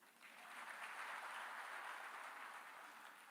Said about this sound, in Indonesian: Tepuk tangan dok.